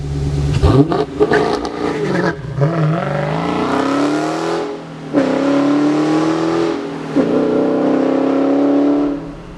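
A Dodge Challenger 392 Scat Pack with a 6.4-liter V8 revs hard and loud in several rising bursts, a deep rumbling growl that climbs in pitch, drops back, and climbs again up close.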